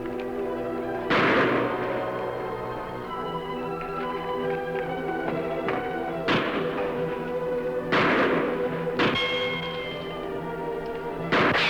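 Several sharp rifle-style gunshot bangs ring out in a Western shootout among rocks, irregularly spaced with a booming echo over a steady droning background, fairly loud and close.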